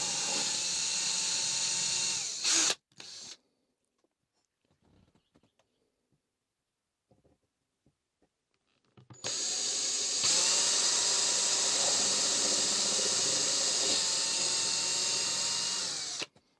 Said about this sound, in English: So I'm popping 3mm pilot holes in, center of the hole position.